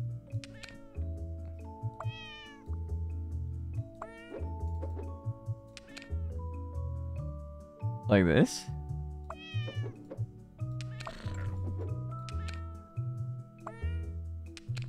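A game cat, Dita Von Cheese, lets out a strong, warbling meow near the middle, rising above looping background music, with a person chatting before and after it.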